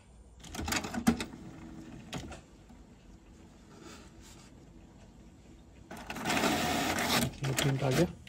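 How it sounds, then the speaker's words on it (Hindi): An HP Smart Tank 500 inkjet printer runs its alignment page, giving bursts of mechanical whirring and clattering from the print carriage and paper feed, with a loud stretch near the end and a voice talking quietly between the bursts. "अब ये प्रिंट अलाइनमेंट करेगा"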